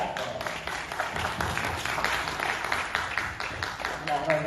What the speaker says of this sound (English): Got a clap for that.